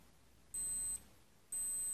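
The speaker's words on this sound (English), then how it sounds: "it's going to start beeping" A Casio G-Shock GRB100 digital watch (module 5536) sounds its countdown alarm: two short, high, steady electronic beeps about a second apart, fairly faint over quiet room noise.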